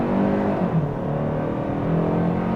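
The 2025 Kia K5 GT-Line accelerates hard under throttle, its engine a loud, steady rising drone with a brief gear-change dip, heard from inside the car without talk.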